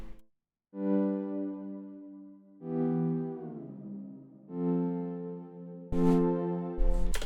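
Sustained synth chords swell in and hold, one after another, with a soft reverberant tail; a sharp noise burst cuts in near the end.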